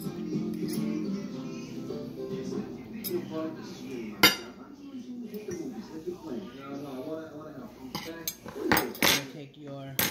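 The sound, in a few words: putting spaghetti on a plate, cutlery and dishes clinking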